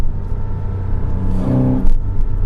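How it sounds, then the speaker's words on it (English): A 2006 Porsche 987 Cayman S flat-six engine revs up on back roads, a steady close rumble swelling to a louder peak near the end. "the sound of that flat six"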